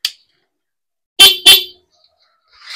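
A pair of sharp car horn beeps close by, separated by a short gap, with quiet before and a faint sound trailing after.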